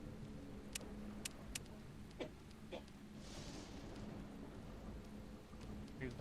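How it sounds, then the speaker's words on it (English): Rain falls steadily in the horror video game Deadly Premonition, a broad constant hiss with a few sharp drop-like ticks and a faint low rumble beneath, no voices. "Maybe that's just supposed to sound like raindrops hitting the ground."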